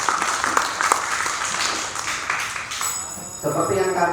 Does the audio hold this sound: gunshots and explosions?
no